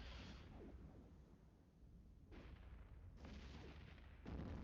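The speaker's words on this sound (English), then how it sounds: "That lovely big explosion." Spaceship explosions in the space video game Eve Echoes come as a series of booming bursts, each a broad crackling blast, the last one loudest, over a constant low synthetic rumble.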